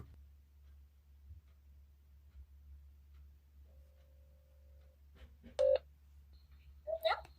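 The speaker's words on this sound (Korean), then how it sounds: "이제 두 번째 친구한테 전화를 걸어볼게요" Telephone keypad dialing tones sound while calling a friend on a phone, a few short beeps and a longer held tone over quiet room hum, near and clear.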